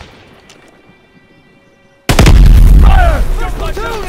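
Sudden loud volley of rifle and machine-gun fire from soldiers in Call of Duty: WWII, bursting in after a quiet stretch and continuing with rapid repeated shots and shouting voices.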